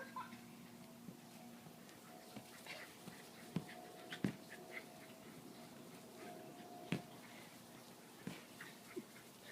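Faint, quiet dog sounds: soft whimpers and light panting over a low background hum, with a few small clicks and thumps scattered throughout.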